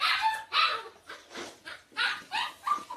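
A dog at home barks in a rapid series of sharp, close yips and barks, about seven in three seconds, with no talking.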